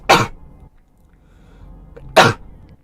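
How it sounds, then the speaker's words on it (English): Two sharp, loud sneezes close to the microphone, about two seconds apart, each a brief burst with quiet breathing between them. "Hold on, I'm gonna sneeze."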